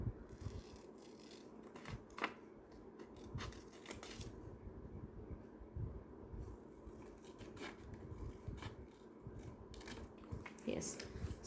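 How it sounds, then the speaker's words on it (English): Scissors snip through paper while circle sectors are cut out, giving quiet, scattered crisp cuts and rustles close by, with a low background hum. "Now I will cut all the sectors using my scissor"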